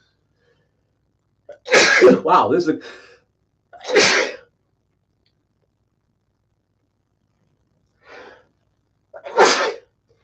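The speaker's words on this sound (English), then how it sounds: "I'm about to sneeze too." A person sneezes loudly several times in separate bursts with pauses of quiet between, close by, with a few brief words spoken.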